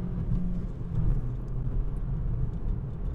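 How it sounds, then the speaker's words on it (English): A 2017 Honda Civic Si in second gear rounds a sweeping corner, its engine a steady, close, low rumbling drone with road noise and no voices. "We're going to shift her down into second gear, and we're going to go around this sweeping corner here and just see how it handles."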